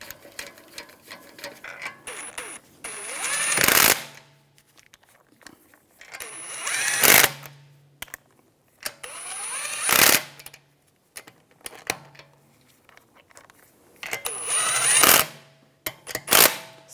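A power tool on the rear wheel of a 2009–2013 BMW 328i xDrive snugs down the lug bolts in four loud, separate bursts, with quieter clanks and handling noises in the pauses between them.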